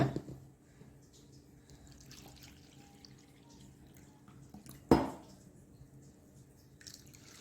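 About two cups of water are poured over washed urad dal, with a single sharp splash amid faint drips and quiet handling sounds.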